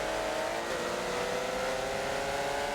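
Race cars in a Porsche GT3 racing video game run side by side on the Indy GP circuit, a steady droning engine whine with rising and shifting pitch, continuous and fairly loud with no talk.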